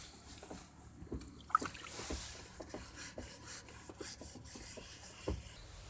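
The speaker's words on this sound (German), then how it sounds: "Nach einiger Zeit sind wir fertig mit dem Schleifen" Soft, steady rasping strokes of hand sanding body filler on a car sill with a sanding block, a rhythmic scratchy rubbing repeated many times, close and quiet.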